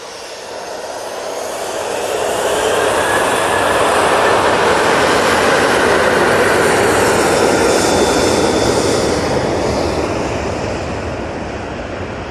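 A Jet2 jet airliner departs Manchester Airport, its engines swelling from a low rumble into a loud, broad roar that holds steady before slowly fading, with no voices.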